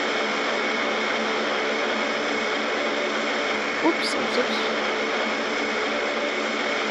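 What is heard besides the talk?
airplane engines speeding up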